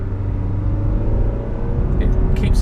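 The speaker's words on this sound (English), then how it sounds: "if I flip it just into paddle shift mode, you can hear the revs building." A 2019 Alfa Romeo Stelvio in paddle shift mode, its engine revs climbing in a steady low rumble heard from inside the cabin, continuous and fairly loud.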